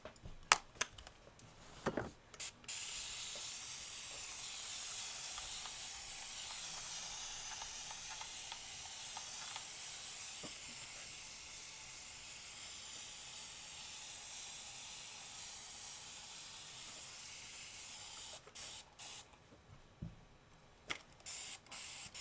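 A steam iron gives off a long, soft, steady hiss of mist while pressing quilt binding, broken by a few light clicks and knocks at the start and end.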